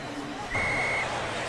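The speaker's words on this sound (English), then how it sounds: "a whistle ahead of the snap" A referee's whistle sounds before the snap in a Browns vs Ravens NFL football game: one clear, sustained blast of about half a second over a steady stadium crowd murmur and broadcast voices.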